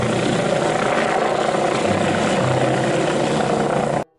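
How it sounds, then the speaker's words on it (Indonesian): A blue police helicopter's spinning rotor makes a steady, close whirring drone that holds evenly, then cuts off abruptly at the end. "ini helikopter polisi."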